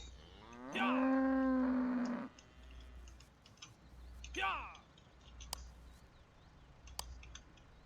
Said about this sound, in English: that cow just made a beeline for that gate and now he's stuck out here